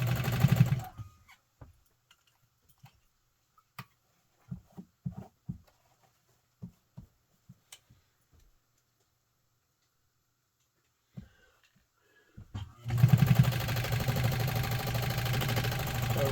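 A Pfaff 130 sewing machine runs in short bursts of stitching, ticking and whirring with quiet pauses between, then settles into a longer, steady run of rapid stitching at the end.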